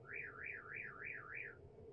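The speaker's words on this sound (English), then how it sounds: "It even has alarm." A security alarm in a 2004 National Islander 9402 Country Coach diesel-pusher motorhome wails with a repeating rising-and-falling electronic siren, about five even sweeps within two seconds, steady and fairly loud with a low hum underneath.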